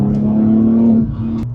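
Porsche 996 Turbo fitted with a Soul Performance exhaust cruising in third gear around 3,000 RPM, a steady loud engine drone that eases off near the end, close and with no talk over it.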